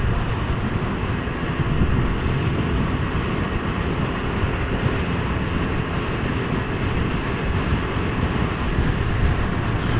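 Steady, loud wind roar buffeting the rider on a 2019 Can-Am Ryker three-wheeler cruising at highway speed, a continuous low rumble with engine and road noise blended in, no talking.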